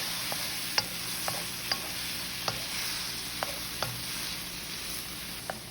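Shrimp for spicy shrimp noodles sizzles quietly in a pan, with a steady soft hiss punctuated by a regular series of small sharp pops and spatters.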